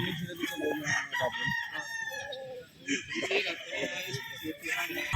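A stag gamecock from a game farm crows near the microphone, loud strained calls rising and falling, with clucking and other fowl noise around it.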